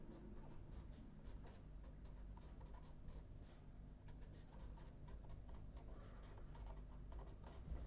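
Pen or chalk writing during a probability theory lecture, a continuous scratchy stroking that runs for several seconds, close and quiet, with no voice.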